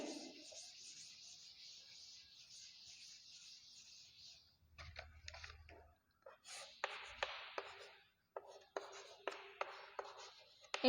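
Pen or marker scratching across a board or paper while a diagram is drawn by hand in a maths lesson, with short bursts of strokes and taps, fairly close and moderately loud, no talking.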